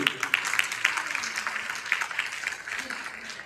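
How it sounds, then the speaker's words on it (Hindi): Audience applause after a speech at an award function in Mumbai, a steady wash of many hands clapping at moderate level, with faint speech-like sounds mixed in. "क्या ये तालियां पर्याप्त है?"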